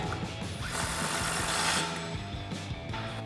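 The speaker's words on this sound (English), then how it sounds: "Now we'll tighten our axle nut back down." A ratchet tightens the axle nut with a 36mm socket during a front strut and spring install on a RAM 1500, giving steady rapid clicking close up over mechanical clatter, no voices.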